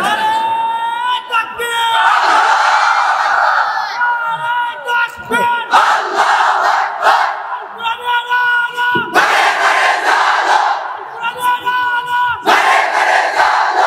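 A large crowd at a Bengali Islamic sermon roars takbir in loud, surging collective shouts, bursts rising and falling repeatedly with brief gaps, close and dense throughout.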